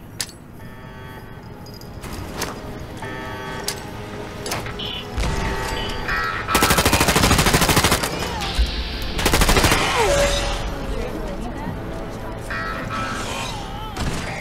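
Rapid automatic gunfire crackles in loud, dense bursts during Fallout 4 Automatron combat, mixed with game effects and a voice talking underneath.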